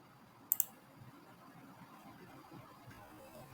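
A computer mouse clicks a submit button on an online form, two quick sharp clicks close together near the start, followed by quiet room tone.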